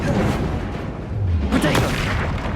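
Spell blast from Confringo cast in Hogwarts Legacy, a short booming impact burst around the middle of a dense, noisy stretch of game combat sound with other rumbling hits.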